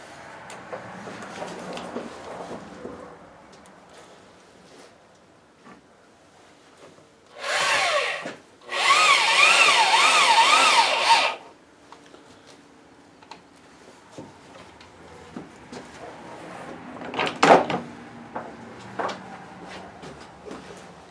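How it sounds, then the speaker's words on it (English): Power drill driving a screw into a wooden window frame, with two bursts of whirring drilling in the middle and a sharp knock later, amid quiet workshop handling sounds. "I figure I better drive a screw in first."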